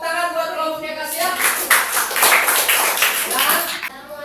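Classroom applause for a student presenting group, a burst of many hands clapping for about three seconds. A voice is heard briefly before the clapping begins.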